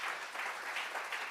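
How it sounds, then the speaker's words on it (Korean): Congregation clapping through a Friday evening church worship service, a dense, steady wash of many hands applauding together with no pauses. "영광의 박수를 올려드리겠습니다."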